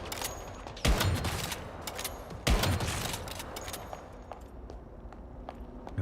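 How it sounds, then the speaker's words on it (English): Gunfire in the video game Once Human: two sharp, loud shots or bursts ring out a couple of seconds apart, followed by lighter scattered shots that fade away. "Who's shooting me?"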